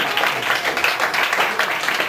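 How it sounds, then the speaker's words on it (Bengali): Applause for a prize winner at a coaching centre award ceremony, a dense steady patter of many hands lasting about two seconds with no pause. "হাততালি।"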